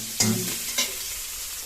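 Onion frying in a pan, a soft steady sizzle under two sharp scraping stirs of a spoon, the first stronger, the second lighter, with no talk.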